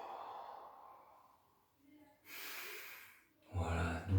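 Slow, audible breaths in and out during a gentle neck exercise, close and soft, with a voice giving quiet instructions between the breaths.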